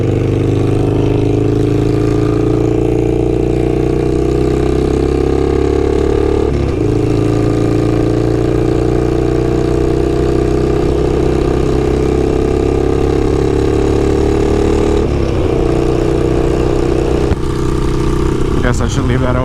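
A Harley-Davidson motorcycle fitted with a Kinetic 'The Coil' exhaust accelerates steadily, its loud, continuous engine drone rising in pitch with brief dips at gear changes, close and dominant throughout.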